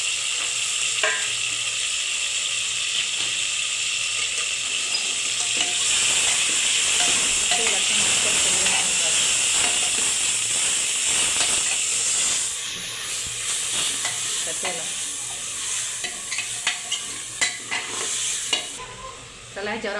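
Minced meat keema is stirred in hot oil with coriander paste inside a pressure cooker. A continuous loud sizzle runs throughout, with scraping stirs and clinks close up and no voices.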